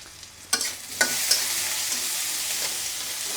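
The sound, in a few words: masoor dal (red lentils) frying in hot oil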